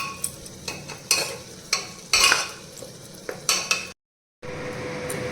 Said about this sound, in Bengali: লো ফ্লেমে দিয়ে যতক্ষণ না তেল ছেড়ে যাচ্ছে ততক্ষণ আমি এটাকে কষাতে থাকবো